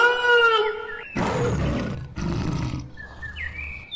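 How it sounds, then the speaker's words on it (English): A tiger's roar: two loud, broad, rasping bursts of about a second each, following a high whistling tone, with faint bird-like chirps trailing at the end. "T for tiger."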